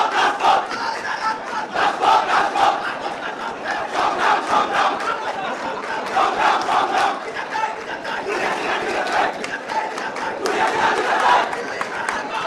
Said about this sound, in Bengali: শিক্ষার্থীরা জুলাই হত্যাকাণ্ডের বিচারের দাবিতে স্লোগান দিচ্ছেন